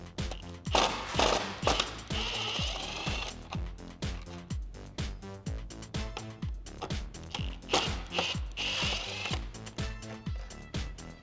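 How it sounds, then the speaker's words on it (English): Quick repeated clicking of a ratchet driving a 10mm socket on the intake tube bolts of a 2018 Jeep Wrangler JL 3.6L, a steady rhythmic run of sharp ticks close by with no voices. "I'm going to take a 10mm socket and go ahead and remove those"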